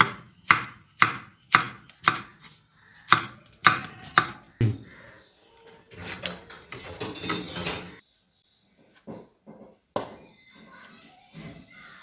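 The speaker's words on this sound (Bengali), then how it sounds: "কিছু ভেন্ডি নিয়েছি প্রথমে কেটে নেবো ভেন্ডিগুলো এইভাবে" Okra (bhindi) sliced with a knife on a board for a crisp fried bhindi dish: a rapid run of sharp, close chops in steady rhythm, then scattered knocks and handling noise; no talk.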